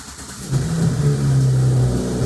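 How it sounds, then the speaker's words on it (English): An Audi S4 B9 3.0L V6 TFSI engine cranks briefly, then catches and settles into a steady idle, close and fairly loud. "Let's press it, start the car."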